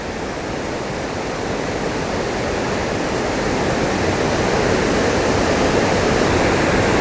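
Kakabeka Falls in Ontario pours in a dense, steady roar of falling water. The broad wash holds even and grows slightly louder toward the end, with no voices over it.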